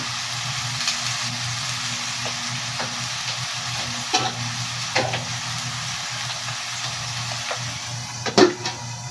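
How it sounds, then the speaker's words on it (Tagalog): Fish fries in a pan with a steady, close sizzle throughout, broken by occasional light utensil clicks and a sharper clatter near the end. "piniprito ko itong isda"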